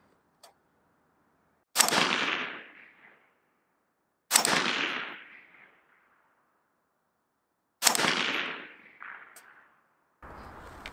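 Three separate rifle shots from a 10.4-inch HK416 barrel firing AAC 5.56 with 77-grain Sierra MatchKing rounds, each a sharp loud crack followed by a short decaying echo, spaced a few seconds apart outdoors.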